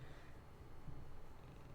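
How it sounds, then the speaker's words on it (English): Skooma the cat purring close up, a soft steady low rumble that continues evenly through the short stretch with no other sounds. "If you listen, you can hear Skooma purr."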